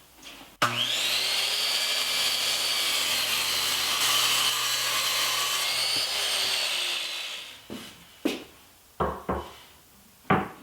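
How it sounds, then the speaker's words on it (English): A power saw slices through an old plywood shop cabinet top, one long loud whining cut of about seven seconds, followed by several short sharp knocks and clunks of the board being handled. "I'll cut the top down to have 1 inch overhang on the sides and 1 inch overhang on the front"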